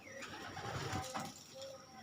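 Domestic pigeons cooing inside a breeding coop used for raising doves, soft low murmuring coos with faint higher chirps under steady background noise.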